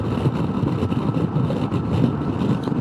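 Honda PCX150 scooter cruising on a highway at about 65 mph on partial throttle, a steady droning engine and wind rush, moderately loud and unbroken.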